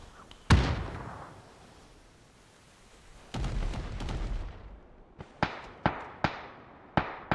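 Gunfire in an esports video game match: one sharp shot early, a longer burst of firing in the middle, then a run of five or six evenly spaced shots, all crisp and prominent with no talk.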